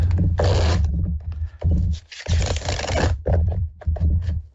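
Tarot cards being shuffled by hand, with repeated bursts of riffling and scraping card noise in an uneven rhythm, close and fairly loud, with no talk.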